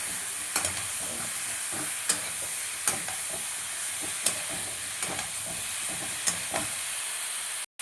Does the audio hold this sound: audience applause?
no